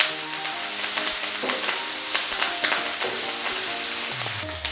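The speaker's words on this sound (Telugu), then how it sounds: "అండ్ పోపుని ఇట్లా కలుపుకొని ఒక 7-8 పచ్చిమిరపకాయలు ఇలా ముక్కలు కోసుకున్న వేసేసాను" Mustard seeds, dal and chopped green chillies fry in a hot tempering for a Telugu dondakaya fry, producing a loud, dense crackling sizzle with repeated stirring scrapes and clinks close by.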